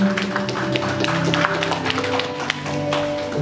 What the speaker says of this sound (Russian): Можно поддержать аплодисменты